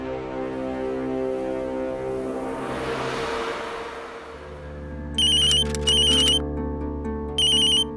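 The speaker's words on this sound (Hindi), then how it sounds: "तुम्हारा फोन आ रहा है।" A phone ringtone chimes in short repeated electronic bursts, loud and close, over a steady low hum of background noise.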